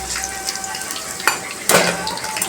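Hibiscus flowers frying in hot oil for a homemade hair oil, a bright crackling sizzle with a couple of louder spatters and utensil stirring clinks, close and without talk.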